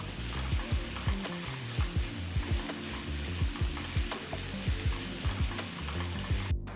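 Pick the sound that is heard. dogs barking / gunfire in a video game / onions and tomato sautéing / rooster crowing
onions and tomato sautéing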